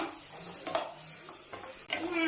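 Spice powders being stirred into a pan while cooking fried chicken biryani, a close scraping stir with a couple of sharper spoon strokes over a soft steady sizzle.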